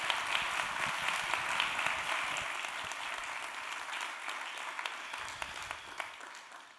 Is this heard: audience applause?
yes